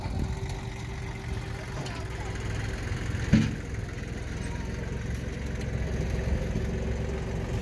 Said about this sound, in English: there's Joe and his tractor